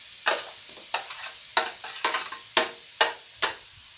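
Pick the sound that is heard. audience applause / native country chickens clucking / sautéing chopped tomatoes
sautéing chopped tomatoes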